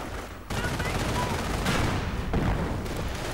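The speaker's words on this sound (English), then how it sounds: "And the Panzer IV blasts away." A Panzer IV tank fires in a WWII strategy video game, with dense rolling bursts of gunfire and blasts over a continuous battle din, loud and sustained throughout.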